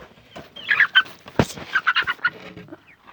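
A chicken clucks repeatedly and loudly up close, in a burst of short, excited calls.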